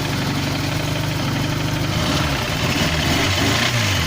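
A tractor engine with a knocking fault runs loud and close, a steady idling throb with rhythmic knocking that shifts and roughens partway through, with no voices.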